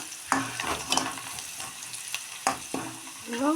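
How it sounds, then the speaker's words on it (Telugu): Turmeric being stirred into chili and onion frying in oil in a home kitchen pan, with a steady soft sizzle under several scraping spoon strokes against the pan, close and fairly quiet, without speech. "ఇప్పుడైతే పసుపు వేసి కలుపుతున్నా"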